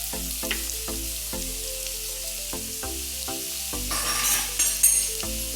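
Vegetables including carrot fry in a pan for shavige upkari, a steady sizzle broken by repeated stirring scrapes and clinks of a utensil against the pan, close and alone with no voices.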